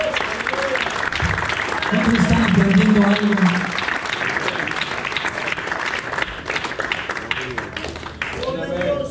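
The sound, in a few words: congregation applause in church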